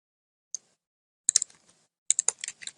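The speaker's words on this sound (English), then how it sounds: "All I'm doing here is I'm typing in the names and I'm pasting that little button back into the box" Keystrokes on a computer keyboard as names are typed in: a single tap, then two quick bursts of close, crisp clicking with short pauses between.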